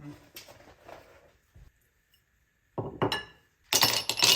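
A whiskey or rum glass clinks in a home kitchen, a few sharp bright taps near the end, with softer handling noises and short gaps of quiet before.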